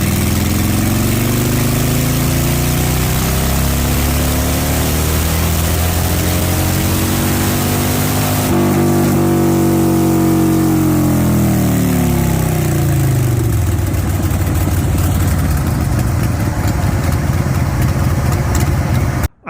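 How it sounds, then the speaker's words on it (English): A 2015 Harley-Davidson Breakout motorcycle engine roars on a dyno, loud and close, revving up through the gears and then sweeping back down in a continuous throaty drone. "So here's a quick clip of one of the dyno runs."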